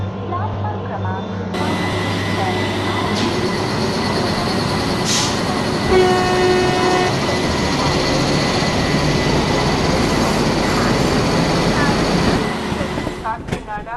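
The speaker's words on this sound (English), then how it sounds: "Kakinada Express is coming on platform number 5." Kakinada Express train arriving at platform 5 of an Indian railway station, a loud continuous rumble of the approaching train with a horn blast partway through, while a platform announcement plays over it.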